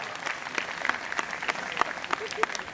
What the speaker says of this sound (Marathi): जरा टाळ्या जोरदार